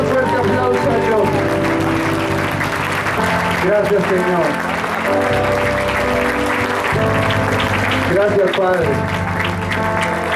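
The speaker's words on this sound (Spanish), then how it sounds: "Denle un fuerte aplauso a Dios." A church congregation at a Spanish-language service applauds, with steady clapping running beneath a voice speaking over the hall and background music.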